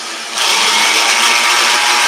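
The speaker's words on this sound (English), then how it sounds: "when you fire up the blender that you hold the top just in case" A kitchen blender whirs steadily at high speed, chopping ingredients in a teaching-kitchen setting; the motor kicks in loud after a brief quieter start and keeps a dense, even roar throughout.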